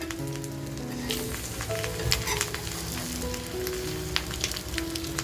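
An egg tikki fries on an iron tawa with a soft, steady sizzle, crackling spits and a few scraping clicks as the patties are turned, heard close and fairly quiet with no talking.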